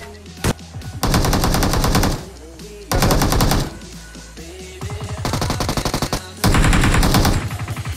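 Battle royale video game gunfire comes in loud, sustained bursts of rapid automatic fire separated by brief pauses, with a single sharp shot near the start.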